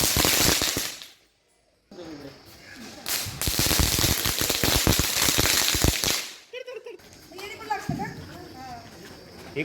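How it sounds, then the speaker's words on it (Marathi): Firecrackers bursting outdoors during a Padwa festival celebration, a run of sharp loud cracks and pops close by with brief quiet gaps, followed by people talking. "आता चालू आहे थोडं फटाके वगैरे फोडतायत सगळेजण मस्त."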